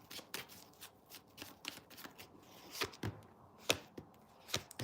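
Tarot cards being shuffled in quick riffling bursts, a series of crisp flutters and taps, close and fairly quiet, with no talking.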